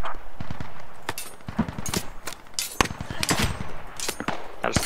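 Scattered gunfire cracks out in a Squad military shooter match, sharp irregular shots and short bursts at varying distances, some close and loud, others distant.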